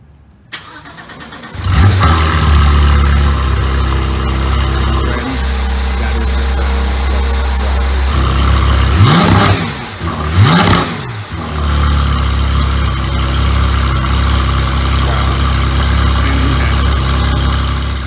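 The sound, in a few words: flat-six car engine revving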